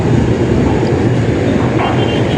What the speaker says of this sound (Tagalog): Ayan po ang LRT natin, no?